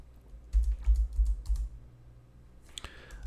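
A password is typed on a computer keyboard: two short bursts of quick, soft key clicks, close and fairly quiet, followed by a faint sharper tick near the end.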